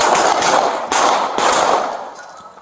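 Gunfire erupts in a police shootout with an armed robbery suspect in the Bronx: several loud, sharp bursts in quick succession, up close and ringing out with no voices between them.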